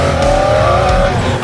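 An expensive car drives past with a loud, close engine hum and a rising whine, brief and continuous, with no voices.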